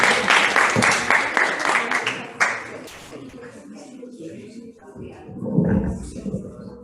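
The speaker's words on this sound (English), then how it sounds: "Let's give them a round of applause." An audience at a school career week event claps briefly, a short burst of applause that fades within a few seconds, followed by scattered noise and a voice.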